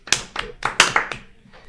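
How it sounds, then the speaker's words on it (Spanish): A handful of close, sharp hand claps ring out in an uneven quick burst, about six slaps fading out within a second and a half. "Un aplauso. para Gerson."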